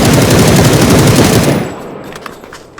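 Loud, rapid automatic gunfire in a video game, a dense burst of shots that cuts off after about a second and a half, leaving a few faint clicks.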